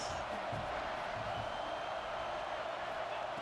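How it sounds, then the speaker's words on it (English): Football stadium crowd in an NCAA football video game roars in a steady wash of cheering, moderately loud and unbroken for a few seconds. "Third down, and the crowd really getting into it."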